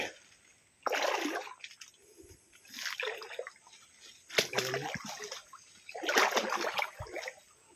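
Water splashes and sloshes as someone wades through a river in a rural province, coming in several bursts separated by brief pauses, fairly close and loud.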